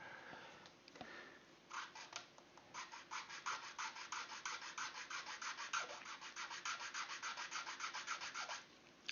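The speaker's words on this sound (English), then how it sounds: "Actually, let me just file it." Hand file rasping against a part for a homemade AH-64D helicopter collective control, steady back-and-forth strokes in a fast even rhythm, close and clear with no talking.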